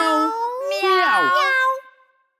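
A voice sings an imitation of a cat's meow in a French children's song, a drawn-out wavering tone that ends abruptly.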